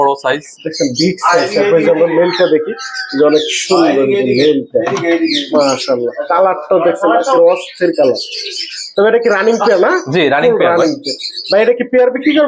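Ring-necked parrots call loudly at a parrot farm during breeding season, a close, dense run of squawks and chirps broken by short pauses, with people talking among the calls.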